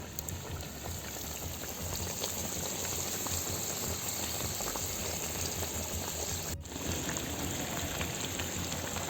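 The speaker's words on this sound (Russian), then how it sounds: "будет потом слегка булькать уже на углях" Tashkent plov bubbles gently in a pot set over coals outdoors, a steady dense crackling simmer with a soft hiss and no voices, holding an even level throughout.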